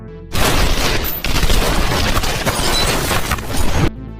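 Dense, sustained volley of gunfire in an action film, a continuous loud barrage of shots and booms that starts abruptly and cuts off near the end, with no talk.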